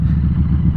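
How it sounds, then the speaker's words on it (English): A Harley Davidson Street 500 motorcycle exhaust gives a loud, steady low rumble close by for under a second, heard alone with no talking. "the exhaust actually overpowers my voice to the extent that I can't hear my voice anymore"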